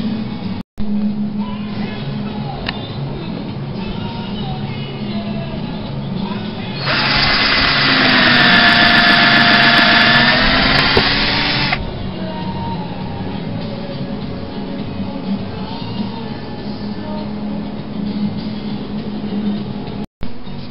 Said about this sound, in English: And then I'm going to pre-drill and drill those in.